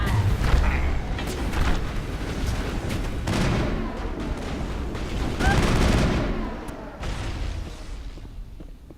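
Heavy gunfire in the Mass Effect video game, repeated bursts of shots and booming impacts over several seconds with a constant loud battle din, and a voice heard faintly in places.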